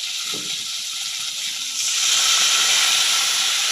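Chopped tomato with ginger, cumin and green chili paste fries in a pan, giving a continuous bright hiss that swells noticeably louder partway through.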